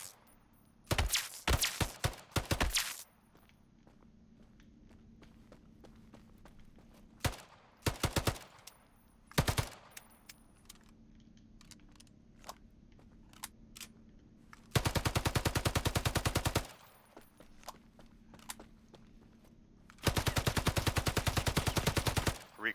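Weapons firing in the Islands of Nyne training room: loud bursts of rapid automatic gunfire and single sharp shots, separated by quiet gaps, with a few longer sustained volleys.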